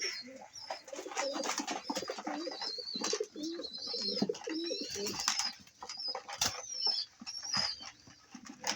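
Several pigeons coo repeatedly in soft, throaty bursts, with scattered chirps and light rustling close by.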